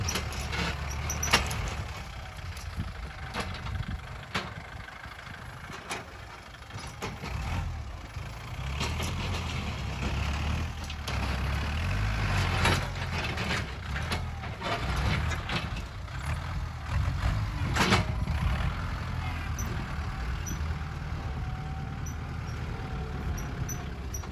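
A farm tractor engine runs continuously nearby on a cattle farm, a steady low diesel rumble with rattling, clanking knocks and occasional sharper bangs throughout.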